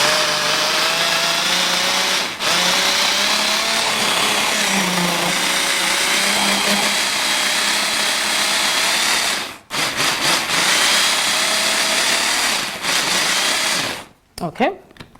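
A blender pulses a raw collard-wrap filling with a loud, continuous whirring grind. It cuts out briefly twice, then ends in a few short, choppy bursts.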